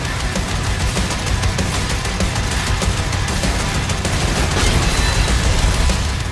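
Heavy gunfire from powerful weapons in the medieval-themed shooter DOOM: The Dark Ages, a dense, continuous barrage of shots and booms that stays loud and steady throughout without pause.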